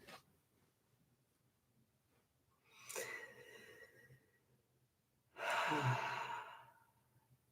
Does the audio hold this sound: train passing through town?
no